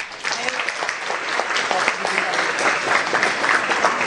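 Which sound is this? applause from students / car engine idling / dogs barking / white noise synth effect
applause from students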